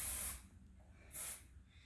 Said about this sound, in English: we need a little bit of spray